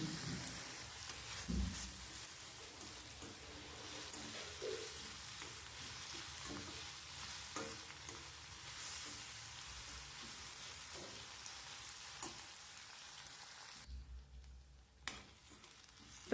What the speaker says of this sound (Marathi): आणि टमाटा पण आपल्याला तेलावर छान परतून घ्यायचा आहे बघा अशा पद्धतीने